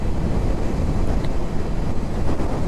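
Steady, loud wind roars and buffets against the microphone while riding a bike outdoors, a continuous rushing noise with no pauses and no speech.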